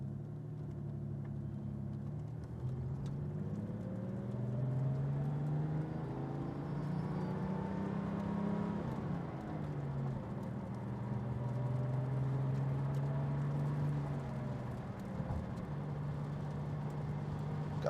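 A 1988 Porsche 911 Turbo pulls away and accelerates, its engine note rising and falling steadily through gear changes. The engine is close and continuous throughout, with no talk.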